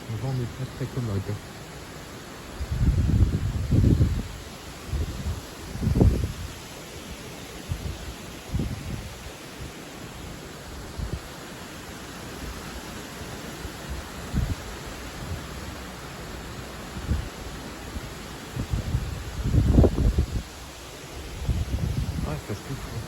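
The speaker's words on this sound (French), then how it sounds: "Surtout là dans les arbres bien chargés de feuilles." Gusts of strong wind stir heavily leafed trees, with intermittent swells of rustling and buffeting that come and go over a faint steady background.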